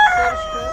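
A rooster at a poultry market lets out a brief, loud, close crowing note that fades quickly, with no speech.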